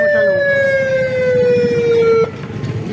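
A loud, close police car siren wails with a steady falling tone, then cuts off abruptly, leaving street noise and engine rumble in a town street in Shikarpur.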